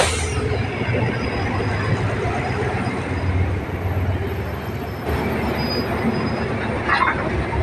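GEA 4556 diesel locomotive pulling ordinary train 211 from Bangkok Hua Lamphong to Taphan Hin out of a station platform, a steady loud rumble of engine and rolling wagons with faint wheel squeal throughout.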